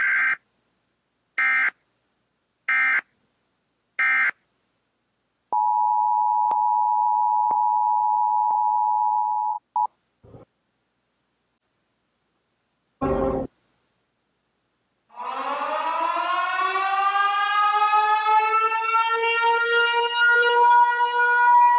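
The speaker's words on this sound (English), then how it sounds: "Emergency broadcast system." Emergency broadcast system signal: four short, evenly spaced beeps, then a steady held tone, a few brief clicks and a burst, and finally a loud rising wail like a siren that keeps sounding to the end, with no voices.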